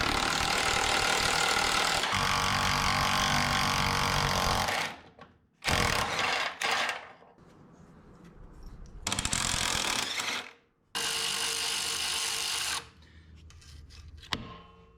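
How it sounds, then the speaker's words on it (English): An impact wrench works on a 1959 International B100 truck in loud, long rattling bursts broken by short pauses, close by and with no talk over it. "Get the old impact motivating machine on her,"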